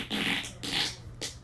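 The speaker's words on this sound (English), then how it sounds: "Editor, can you put in the one where Fart King Kyle 814 just rips ass?" Fart sound effect made of three separate, loud, raspy bursts in quick succession, with each burst trailing off before the next one starts.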